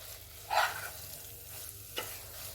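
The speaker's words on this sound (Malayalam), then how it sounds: "അതിൻ്റെ പച്ച ചൊവയൊന്ന് മാറുന്ന വരെ നമുക്ക് ഇതിനകത്തിലിട്ട് ഒന്ന് വരട്ടിയെടുക്കാം" Chicken roast masala sautéing in oil in a pan, a faint steady sizzle with a couple of short scraping stirs from a spatula, no talking.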